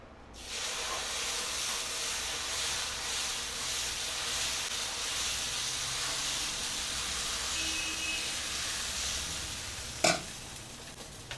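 A hot iron dosa pan hisses steadily as oil is rubbed hard across its surface, a continuous close sizzle with a faint scraping texture and one sharp clink near the end.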